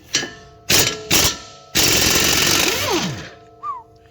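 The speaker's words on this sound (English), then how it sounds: "Let's remove these nuts from here. Alright, for these here we'll be using a 24mm socket." A 24mm socket on a power wrench spins off the driver-side strut tower nuts of a Honda Pilot: three short, loud rattling bursts, then one longer sustained hammering run, close up with no talk.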